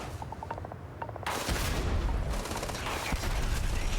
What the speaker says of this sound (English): they got a grenade launcher down there?